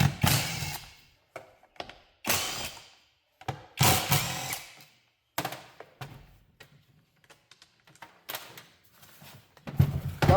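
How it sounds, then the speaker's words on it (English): Cover screws are being removed from a Stihl MS311 chainsaw, heard as a series of short, loud mechanical whirring bursts of varying length separated by brief pauses, with no voices. "you got 3 or 4 screws you got to take out"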